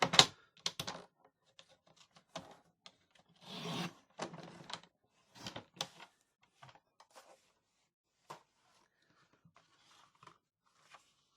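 Card paper for a theatre card craft is trimmed by hand in quiet, close, scattered bursts of scraping and crisp cutting sounds separated by pauses.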